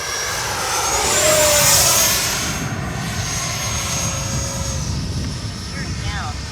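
A Freewing 90mm Eurofighter RC jet flying past with gear down for a landing pass, a loud steady turbine whine and roar that swells and eases, with someone talking over it.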